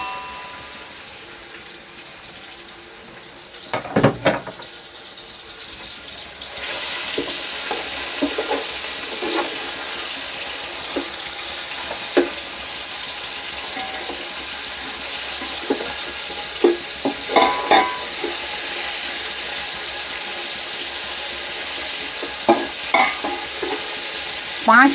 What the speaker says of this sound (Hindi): चिकन को फ्राई कर लेंगे